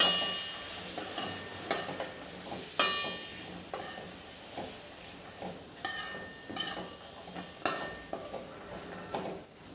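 Spiced cabbage and bean curry with red chilli, coriander-cumin and salt being stirred in a pan, a spoon scraping and clanking against metal in repeated strokes over a soft sizzle, close and with no voices.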